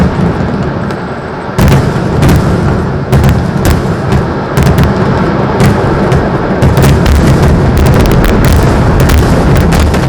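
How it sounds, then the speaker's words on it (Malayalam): Pooram festival fireworks in Kerala, a continuous barrage of loud booming explosions and crackling bursts, dense and overlapping throughout with no pauses. "വൻ സുരക്ഷാ സജ്ജീകരണങ്ങളോടെ നടന്ന വെടിക്കെട്ടിൽ ശബ്ദഗാംഭീര്യം കുറച്ച് വർണ്ണവിസ്മയം തീർക്കാൻ ഇരുവിഭാഗങ്ങളും"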